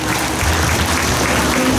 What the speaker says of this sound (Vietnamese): hãy dành cho thầy một tràng pháo tay thật nồng nhiệt để đón thầy